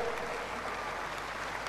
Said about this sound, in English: Keep clapping for the Lord.